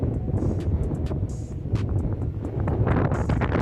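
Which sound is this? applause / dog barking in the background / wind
wind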